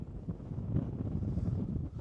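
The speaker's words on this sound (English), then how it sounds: "A little bit windy, but it's not too cold." Low, steady wind rumble buffets the microphone for a couple of seconds on a hike up Breiskrednosi, with no other distinct sounds.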